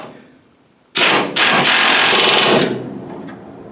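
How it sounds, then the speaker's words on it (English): A small impact wrench hammers down 3/4-inch suspension bolts on a Mustang front suspension, two loud close bursts of rapid rattling, the second sustained for over a second before tapering off. "I'm just going to run these down with my small impact"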